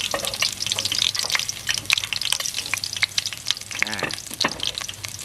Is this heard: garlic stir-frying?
yes